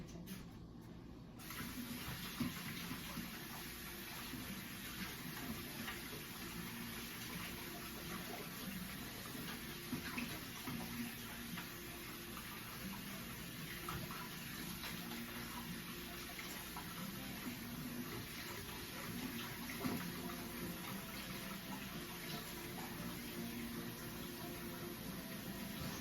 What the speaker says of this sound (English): So I'll wash my hands off